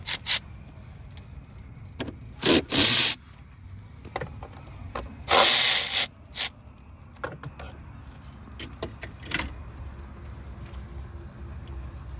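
A ratchet or power tool loosens bolts on the EVAP part of a 2019 Chevy Traverse with a 3.6L engine, in short loud bursts separated by lighter clicks and metallic handling, with no talk.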